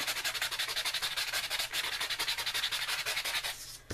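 Card stock edges rubbed with a fingernail file, a close, steady rapid scratching in quick back-and-forth strokes for several seconds, ending with a brief knock.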